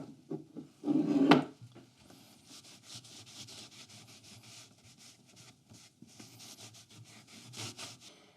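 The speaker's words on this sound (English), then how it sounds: "as a finish, I'm going to be using some furniture wax just to give it a bit of protection." Furniture wax is rubbed by hand onto a rustic pallet-wood Christmas tree, with a short louder scuffing burst near the start and then a steady, faint, dry rubbing texture on the wood. No speech.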